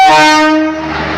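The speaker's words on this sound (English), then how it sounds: "finally I have arrived Jhansi Junction railway station" A loud, close train horn sounds at Jhansi Junction (Virangana Lakshmibai) railway station, a sustained harmonic blast of about a second that fades slightly.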